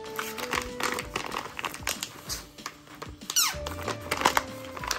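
Pet grooming glove with liquid inside being squeezed, giving faint, irregular squeaks and crinkly squelches up close, with no voice.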